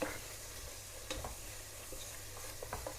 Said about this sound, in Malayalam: ഞാൻ കുറച്ച് ഉപ്പിട്ട് കൊടുക്കുന്നുണ്ട് കേട്ടോ നന്നായിട്ടൊന്ന് മിക്സ് ചെയ്ത് കൊടുക്കാം